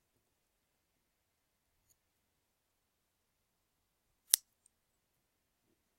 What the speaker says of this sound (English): if I just cut each dollar in half